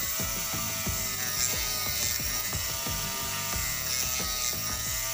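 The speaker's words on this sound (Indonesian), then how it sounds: "Cara pengamplasan juga tidak boleh terlalu ditekan karena ini putarannya sangat kencang" A steady high-pitched spinning whir with rapid ratcheting, scraping texture as a fast-spinning fishing float is sanded with 500-grit paper sandpaper, continuous and close.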